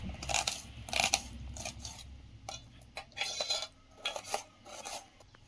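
Knife chopping a tomato into small pieces, a series of close, uneven taps and scrapes of the blade on the board, with quiet gaps between bursts.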